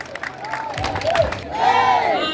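A crowd at a coronation of young ladies cheers, whoops and claps in a short, lively burst, loud and close, with voices rising toward the end.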